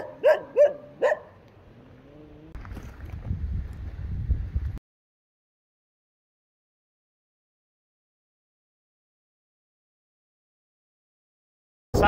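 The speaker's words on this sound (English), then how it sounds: "Barking dog here, and there's little pond." A dog in Gakar village in Nepal gives a quick run of three or four sharp barks up close, followed by some low rustling and handling noise before the sound drops to near silence.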